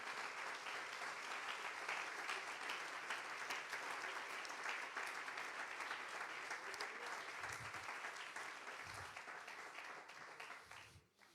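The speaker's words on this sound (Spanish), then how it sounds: "¿Por qué no lo aplaudan esta mañana, por favor?" Church congregation applauding during a sermon, sustained dense clapping that fills the space evenly for about ten seconds before fading out, with a few low thumps near the end.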